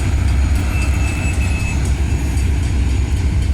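A freight train rolls through the Helena Street level crossing in Midland, heard from a nearby bus interchange: a loud, steady low rumble of wagons and wheels with a thin squeal rising briefly over it.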